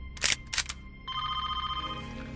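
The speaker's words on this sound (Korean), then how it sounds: "때마침 울리는 교수의 전화" A telephone rings in a scene from the Korean drama Money Heist: Korea, its electronic trill pulsing steadily after a couple of sharp clicks, clear and close with no talking.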